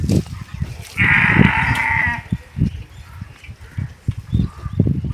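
A goat bleats loudly for about a second while being washed with poured water, with people talking around it before and after, amid background farmyard chatter.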